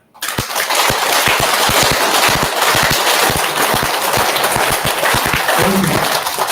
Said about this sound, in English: Keep your both hands in front. Let's clap.